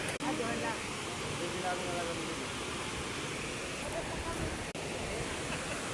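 Lulugayan Falls in Calbiga, Samar roars as a steady, broadband rush of falling water filling the whole scene, constant and loud with only a brief dip.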